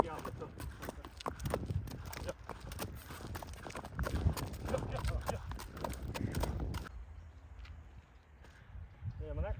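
Ardennes mare's hooves clip-clopping at close range in an irregular walking rhythm, with people talking over them; the hoofbeats stop partway through.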